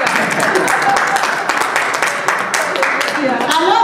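A church congregation breaks into applause during a sermon, with a mix of scattered claps and a fuller burst of clapping lasting several seconds, while voices carry on over it.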